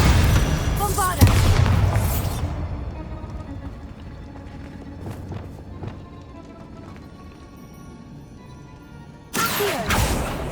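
Bombarda blasting spell from the Hogwarts Legacy video game: loud booming magical explosions near the start and again near the end, with rumbling debris and a quieter stretch of ambient game sound between them.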